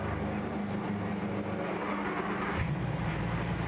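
GT race car engine running steadily in the pits at the 24 Hours of Spa, a loud continuous low rumble that shifts slightly in pitch toward the end.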